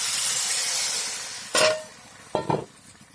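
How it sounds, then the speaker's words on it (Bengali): Fish curry gravy boils in a covered pan, a steady bubbling hiss that fades before a lid is lifted with a brief metallic clatter, followed by two short clinks. "ঝোলটা ফুটে গেছে"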